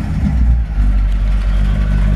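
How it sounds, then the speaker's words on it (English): A 1964 Chevrolet Impala engine runs at a steady idle, a loud, close, deep rumble that carries on without a break. "Engine runs perfect."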